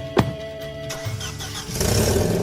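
A car engine cranks and catches with a short sharp burst, then settles into a steady running rumble that grows louder and fuller toward the end, heard close and alone.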